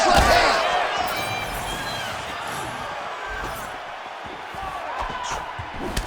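A jab lands in an EA Sports UFC fight as a sharp slap-like impact amid crowd roar and a commentator's talk. Brief thuds punctuate the steady crowd noise.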